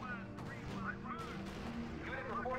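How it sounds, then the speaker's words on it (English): Heavy gunfire and artillery rumble on a World War II strategy game battlefield, with dull booms and crackling shots running under a voice talking over the radio. "Unit reports heavy fire."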